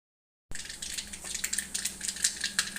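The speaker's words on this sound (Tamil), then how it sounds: "சூடாயிடுச்சு, கடுகு சேர்த்துக்கலாம்." Mustard seeds crackle and sizzle in hot oil while tempering for mint rasam, a dense continuous hiss with scattered sharp pops starting abruptly and running steadily without talk.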